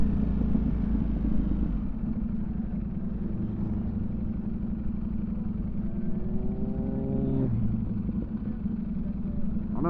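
A motorcycle engine hums steadily, close and continuous, while riding the Tail of the Dragon mountain road, with a rising rev tone near the end.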